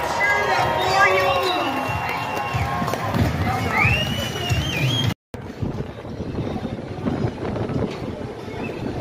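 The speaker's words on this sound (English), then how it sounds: "Everybody, show them how loud you can cheer and get his butt out there working" A rodeo crowd at the Northwest Roundup & Exhibition cheers in a steady, broad roar that fills the arena, with an announcer's voice talking over it before the noise carries on alone.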